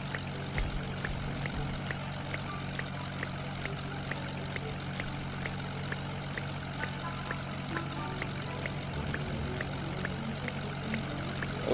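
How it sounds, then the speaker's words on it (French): Propeller airplane engine flying in a Roblox video game: a steady, droning hum with rapid rhythmic blade pulses, continuous and even throughout, with no other sounds. "mon carburant commence à diminuer lentement"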